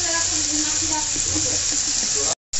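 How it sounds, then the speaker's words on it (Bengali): Spices fried in oil for Bengali mutton kosha give a loud, steady hiss and sizzle close up, with soft stirring and a brief cut to silence just before the end; a voice talks over part of it. "এই দেখো আমার মশলা ভাজা হয়ে গেছে, তেল ছাড়ছে"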